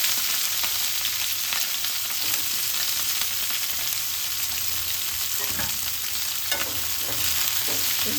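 Onions, green chillies and curry leaves frying in oil for chicken liver fry, a dense continuous sizzle with occasional spoon scrapes as they are stirred, close and steady with no talk.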